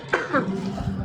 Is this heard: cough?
yes